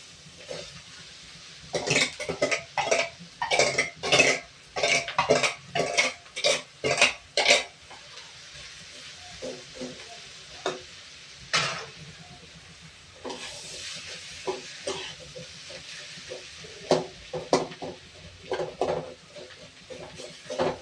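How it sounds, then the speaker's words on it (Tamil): Potatoes being added to a hot frying pan, with a run of clattering scoops and spatula scrapes, then intermittent stirring knocks over a soft, steady sizzle, close and alone. "இப்போ உருளைக்கிழங்கு போட்டுடலாம்"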